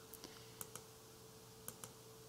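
A handful of soft, close computer clicks and taps land in quick pairs against a quiet hum, as a mouse button is pressed on the Insert control in Quantrix Modeler software.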